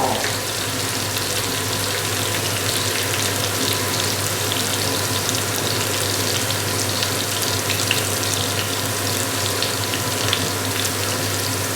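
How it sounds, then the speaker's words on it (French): Hot frying oil draining through a colander into a container beneath while cooking Nepali dal bhat, a steady, close hissing pour that continues unbroken without talk. "Nous préparons la passoire derrière pour pouvoir égoutter, enlever l'huile."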